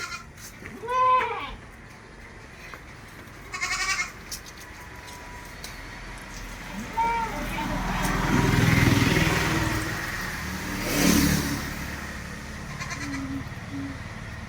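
A large mother goat and her three kids, sold together with a crossbred male kid, bleat in several separate calls, loud and close, over a low engine-like hum and outdoor background.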